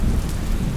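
Monsoon rain pouring heavily with a deep rumble of thunder beneath, a dense, continuous roar in a very brief stretch, with no voices.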